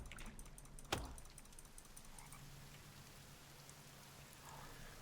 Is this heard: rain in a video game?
yes